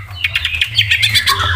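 A caged white-rumped shama (murai batu) calls up close, giving a rapid series of sharp, harsh squawks and chirps in an uneven rhythm, loud and alone with no voices.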